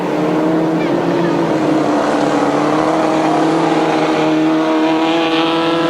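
Grasstrack racing sidecar outfits roar at a British Masters qualifier in 1992, a loud continuous engine drone that holds steady throughout.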